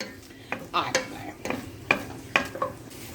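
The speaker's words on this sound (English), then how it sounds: "so they're simmering pretty good" Tomatoes, ground beef and beans simmer in a skillet, softly sizzling while a utensil scrapes and clinks against the pan in several irregular stirring strokes, up close.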